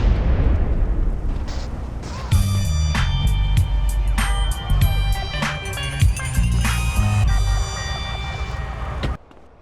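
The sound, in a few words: helicopter exploding in video game GTA San Andreas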